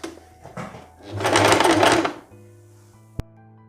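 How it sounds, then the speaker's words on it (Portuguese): A sewing machine stitches a lining over the zipper of a lace dress in one short, loud burst of rapid needle whirring, then a quiet hum and a sharp click near the end. "Vou alinhavar e vou costurar aqui em cima dessa parte do zíper."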